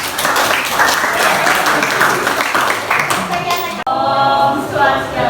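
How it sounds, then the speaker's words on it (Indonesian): A classroom group applauds group 2 after its presentation, brisk close clapping from several people that breaks off sharply near the end and gives way to a voice speaking. "Beri tepuk tangan pada kelompok 2."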